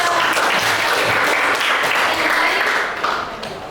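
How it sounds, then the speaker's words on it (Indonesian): Students clap together in a classroom during a role-play lesson about banks, a dense, steady round of applause that holds evenly before tapering off near the end. "Tepuk tangan dulu."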